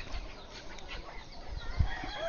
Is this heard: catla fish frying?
no